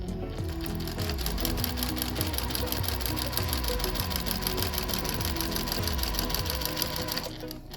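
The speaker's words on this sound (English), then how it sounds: "And then again, sew down the fold on the inside." A sewing machine stitches steadily along the fold of a face mask lining, a loud, continuous mechanical whir with rapid rhythmic needle pulses that runs close to the mic for the whole stretch before easing off at the end.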